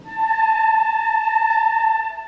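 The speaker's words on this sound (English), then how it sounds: "The first one we'll do the flutes on just their head joint." A flute head joint blown alone by a sixth-grade student at a school concert produces a single high, steady whistling tone. The pure note holds for about two seconds, clear and close, with no talking over it.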